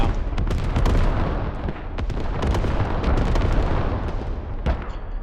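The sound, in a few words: artillery strike exploding in a video game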